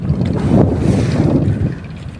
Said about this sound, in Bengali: বাতাস আর বাতাস